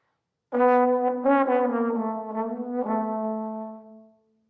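A solo trombone plays a short, smooth jazz phrase of a few connected notes, close and clear, fading out at the end.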